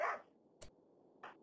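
A dog in RimWorld, attacked by a berserk colonist, gives three short, faint yelping barks spaced apart by quiet pauses.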